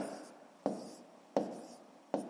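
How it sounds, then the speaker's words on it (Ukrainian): Marker or pen writing numbers during a fifth-grade math lesson on division, three sharp taps each followed by a short scratchy stroke, close and fairly quiet. "Отже, записуємо."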